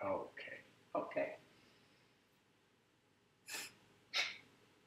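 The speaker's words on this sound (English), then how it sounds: "plug one side of your nose and blow forcefully through the other nostril" A person forcefully blows air out through one nostril with the other plugged during a nursing physical exam, two short loud nasal bursts following brief talk.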